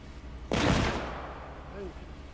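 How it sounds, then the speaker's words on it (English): Gunfire from computer-controlled characters fighting in The Walking Dead: Saints & Sinners, a single loud burst of shots with a trailing rumble, followed by a faint tonal game sound. "The gunshots do attract fucking zombies."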